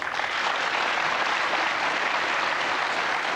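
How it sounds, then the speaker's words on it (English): Studio audience at a British television panel show breaking into applause, a dense, loud, even wash of clapping that holds steady throughout without talk. "There, you got your round of applause."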